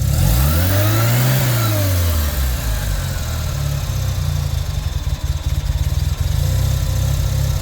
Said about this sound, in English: And if I give a throttle